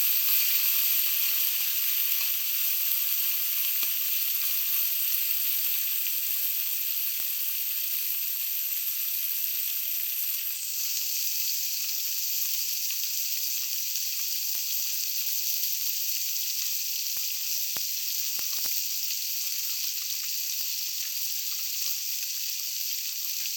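Mourala fish fry in hot oil with a loud, continuous, close-up sizzle and hiss that holds steady for the whole stretch, with a few faint pops and no voices.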